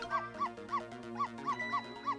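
Seven short, evenly spaced dog barks from the video game Ghost Trick: Phantom Detective, clean and moderately loud with no talking over them.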